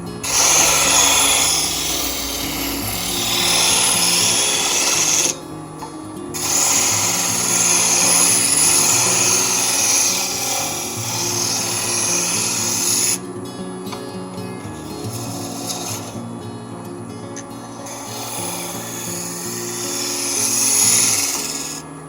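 A skew chisel cuts a wooden snowman spinning on a woodturning lathe, giving a steady, fairly loud scraping hiss that breaks off briefly twice before carrying on.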